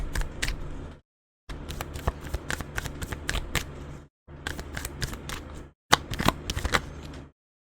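A deck of tarot cards is shuffled up close in three quick bursts of riffling and flicking, with brief pauses of silence between them and no speech.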